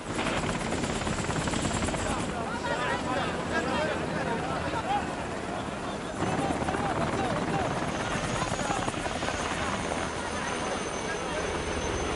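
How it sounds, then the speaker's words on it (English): Military casualty-evacuation helicopter setting down nearby, a steady loud rotor roar and whine filling the whole stretch, with radio chatter and voices talking over it. "chopper landing at my location"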